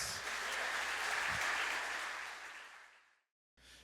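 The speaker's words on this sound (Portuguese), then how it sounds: "Bate palmas para Jesus." A church congregation claps together in a sustained burst of applause that swells and then fades out, falls silent, and picks up again briefly at the end.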